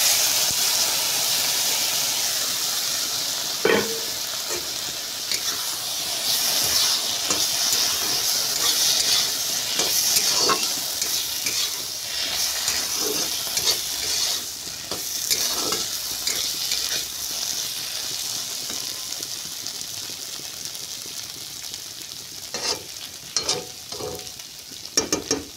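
Potatoes and small fish fry in a pan with a steady, close sizzle and hiss that runs throughout, broken by occasional stirring scrapes and clinks.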